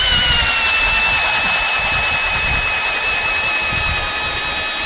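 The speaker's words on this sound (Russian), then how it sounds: "Вот смотрите, как он бурит. Хотя здесь, я уже говорил, слабенький стоит шуруповерт." Ordinary low-power cordless screwdriver drilling a hole through thick ice outdoors in hard frost, a loud continuous high-pitched motor whine with grinding, churning rumble of the bit in the ice, steady throughout.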